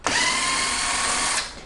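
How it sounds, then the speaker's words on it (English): A cordless drill runs in one continuous high whirring burst of about a second and a half, close up, backing out a screw holding a wheelchair joystick, then cuts off. "I'm going to use a drill just to save some time."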